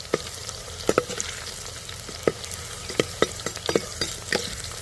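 Crushed garlic frying in hot oil for a fish curry, a steady bright sizzle with occasional sharp pops and stirring clicks throughout, close and even.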